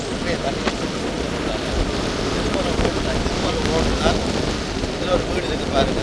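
Strong wind roars steadily over a flooded area, buffeting the microphone with a constant close rushing noise and faint bumps throughout.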